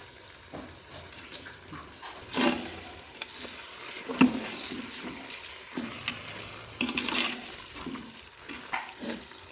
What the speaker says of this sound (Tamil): இப்போ இது நல்லா வதக்கிக்கலாம். கூடவே நம்ம தேவையான அளவு உப்பு ஆட் பண்ணிக்கலாம்.